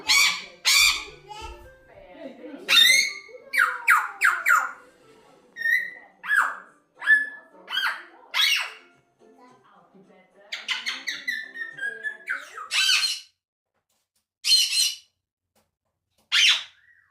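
A pet parrot squawks, screeches and whistles in loud, close bursts of varied calls, repeated with short pauses between them.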